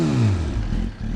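A Suzuki GSX-R 1000 fitted with an Akrapovic exhaust revs close by, its engine climbing quickly in pitch, dropping back, then blipping again in short bursts with a deep, throaty rasp and no talking.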